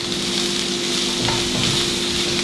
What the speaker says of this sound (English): See, it's getting nice and sauteed